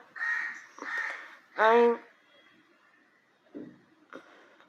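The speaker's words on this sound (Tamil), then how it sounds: "பேக்ரவுண்ட் மியூசிக் இல்லை, இது உண்மையிலே காக்கா கத்துது" Crow cawing in loud, harsh calls, three strong caws close together, then quieter, shorter calls after a pause, with no talk over them.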